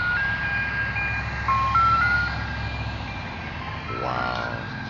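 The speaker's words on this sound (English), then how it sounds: "How many ice cream trucks go around after dark selling ice cream?" An ice cream truck plays its tinkly jingle at night, a thin melody over a low engine drone, with a brief rising tone near the end.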